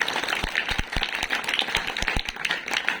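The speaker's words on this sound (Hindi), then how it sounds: "आप लोग जोरदार तालियां बजाइए" A small audience at a school program on girls' education claps unevenly, with distinct, sharp hand claps scattered and overlapping in an irregular rhythm.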